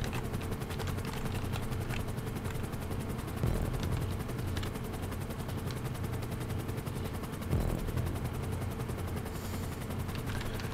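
A helicopter in GTA 5 Online during a snowy transform race, a steady loud droning rotor and engine roar filling the whole stretch, with two brief louder bursts partway through.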